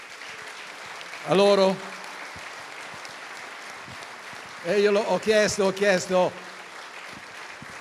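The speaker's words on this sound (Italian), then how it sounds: "Allora lo facciamo un applauso" A crowd applauds the Tridentina brass band at an outdoor event in Castelfranco Veneto. The clapping forms a steady, diffuse background while someone speaks over it in two bursts.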